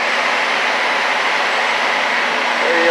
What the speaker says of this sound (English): it's basically a squirrel cage blowing air around